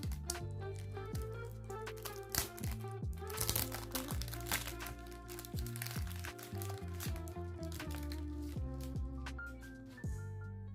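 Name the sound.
removing cellophane wrapper from a Burberry fragrance box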